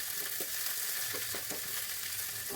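Onions with mustard seeds and curry leaves sautéing in hot oil in a kadai, a steady close sizzle with a few soft stirring scrapes.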